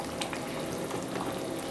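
Steady bubbling of thick pav bhaji gravy simmering in a pan, soft popping bursts over a continuous low hiss, close by with no talking.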